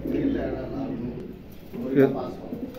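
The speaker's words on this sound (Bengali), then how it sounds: "নিউ অ্যাডাল কবুতর, তো কেবলই ডাক এসে গেছে" Soft, low coos from a newly adult male and female pigeon rise briefly under someone talking steadily nearby.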